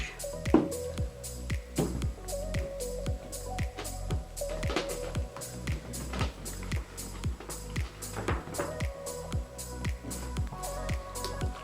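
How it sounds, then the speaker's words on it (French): Baking soda and contact lens solution mix worked into slime, a rapid series of wet squishing, squelching pokes and presses, close and rhythmic throughout. "j'ai mon mélange bicarbonate de soude, solution pour lentilles et j'en verse dessus"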